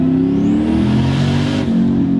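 A 650-horsepower Volvo wagon sleeper accelerates hard, its engine loud and close with a rising harmonic whine climbing steadily before a brief shift-like dip near the end.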